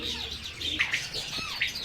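Lovebirds at a Sunday bird market on Kasi Road in Quetta give a few short, bright chirps and squawks over a soft background murmur.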